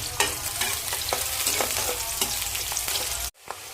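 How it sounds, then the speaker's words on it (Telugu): Green chillies fry with cinnamon and cloves in hot oil, a dense close crackling sizzle with repeated stirring scrapes, cutting off abruptly near the end, no talk. "లైట్గా వేగిన తర్వాత అప్పుడు పచ్చిమిర్చి వేయాలి. ఇది కూడా కొంచెం దూరంగా వేయించుకోవాలి."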